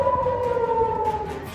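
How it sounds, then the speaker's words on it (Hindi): Air raid sirens wail across Israel during an attack alert, a steady loud tone with two sustained pitches drifting slightly downward, continuous and alone without talk. "इसराइल में बड़े पैमाने पर सायरन बज उठी।"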